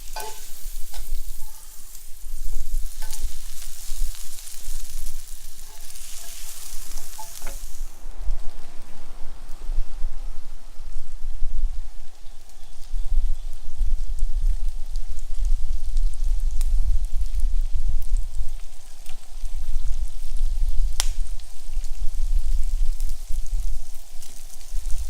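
Burger patties frying in a pan, a steady loud sizzle with crackle running throughout, with no voices.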